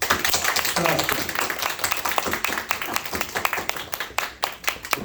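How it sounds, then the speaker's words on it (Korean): Applause from a church congregation at a Christmas program, honoring choir members and a pianist; a burst of scattered, moderately close hand claps runs throughout with voices mixed in. "우리 경례의 박수 하겠습니다"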